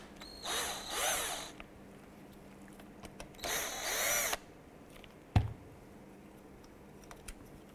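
Two bursts of rapid ratchet clicking loosen screws on the ignition block of a 1993-1997 Ford Ranger, close up, followed by a few light taps and a sharp clunk.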